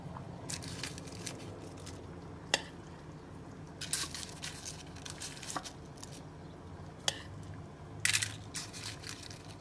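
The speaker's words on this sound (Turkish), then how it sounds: "Bunları bir bardak yardımıyla ezeceğim üzerlerine." Biscuit crumbs pressed down with a glass into mini cheesecake molds give soft, scattered crunching and a few sharp crushing clicks, close and fairly quiet over a steady low background hum.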